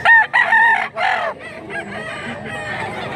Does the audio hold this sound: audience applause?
no